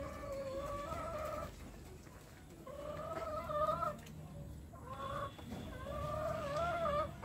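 Sonali chickens clucking in repeated bursts with short pauses between, steady and close, over a low outdoor background hum.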